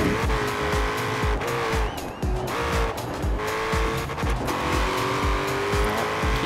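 A Chevrolet Camaro races hard in Forza Horizon 4, its engine roaring loud and close with repeated rising revs through gear changes and occasional tire squeal, with no talking over it.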